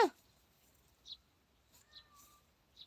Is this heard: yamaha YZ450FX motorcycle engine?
no